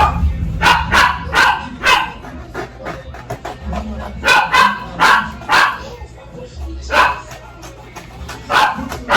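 A dog barks repeatedly in short bursts, loud and close, with irregular pauses between clusters of barks.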